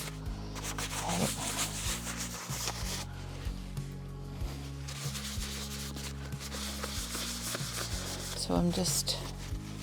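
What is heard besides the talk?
rubbing an IOD paint inlay transfer onto a surface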